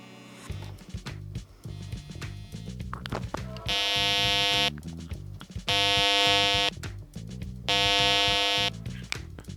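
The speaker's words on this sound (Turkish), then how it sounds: "100 frekansında e, bir saniyelik aralıklarla bir sinyal gönderecek şimdi hoparlörümüz" An Arduino-driven passive buzzer speaker sounds three long, harsh, loud electronic tones at regular intervals, with softer clicks and low handling noise in the gaps between them.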